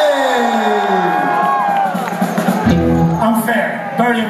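A crowd at a punk rock show at the Yost Theater cheers loudly for punk music, a sustained roar of shouts and whoops with a few voices rising above the mass, heard up close and fading slightly toward the end.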